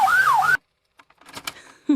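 A toy ambulance lets out a brief wailing electronic siren that rises and falls, loud and close, then cuts off abruptly, followed by faint clicks and rustles of handling.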